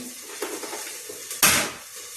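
A metal lid set down on a cooking pan holding tikki on low heat, a single sharp clatter near the end after a few soft scraping and tapping sounds.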